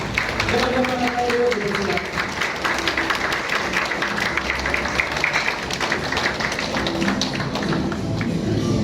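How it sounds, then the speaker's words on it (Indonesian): A large standing audience gives the mentors sustained, dense applause, loud and steady throughout, with murmured voices and crowd noise mixed beneath the clapping. "kita sambut mentor-mentor kita yang luar biasa dan kita berikan aplaus terbaik untuk mereka"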